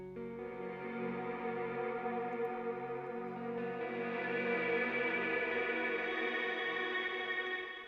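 A thick, swelling guitar tone with a dense wash of reversed reverb that builds and sustains throughout, loud and continuous with a long smeared tail.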